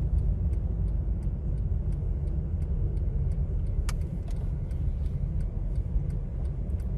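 Economical car driving through Fortaleza streets while turning left, a steady low engine and road rumble from inside the cabin with a regular, crisp turn-signal ticking running throughout.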